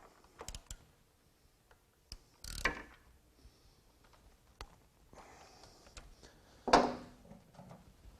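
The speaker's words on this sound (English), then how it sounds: "I'll just snug it into place with a 1-inch socket." A 1-inch socket snugs an inner oil cooler adapter into place on a Harley-Davidson: faint, scattered metallic clicks and ratcheting ticks, with a couple of sharper knocks, against near silence.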